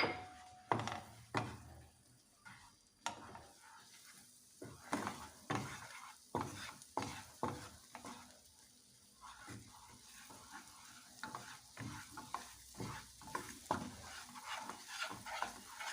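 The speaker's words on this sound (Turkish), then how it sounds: "Bunun üstüne kuru nanemizi atıyoruz ve iyice bunları kızdırıyoruz." Dried mint sizzles and fries in a pan while being stirred, with repeated scraping and tapping of a utensil against the pan, close up and with no voices.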